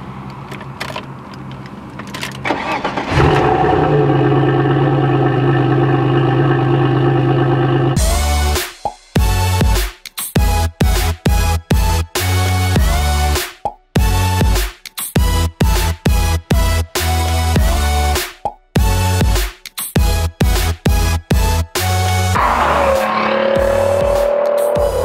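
An Alfa Romeo GTV Cup sports car engine with an aftermarket exhaust rumbles and revs, then roars through a rapid series of sharp throttle blips and gear changes, loud and close with brief cut-offs.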